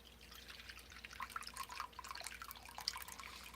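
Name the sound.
whey being poured off homemade goat milk yogurt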